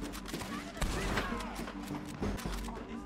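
Rapid gunfire from a Western-era shootout in Red Dead Redemption 2, several shots cracking in quick succession over a busy, dense game soundscape with steady background noise.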